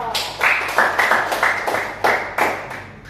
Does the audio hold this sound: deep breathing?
no